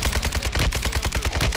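Rapid automatic gunfire from a Kastov 762 rifle in the Warzone video game, with dense, evenly spaced shots rattling close and loud through the whole burst, no talking over it.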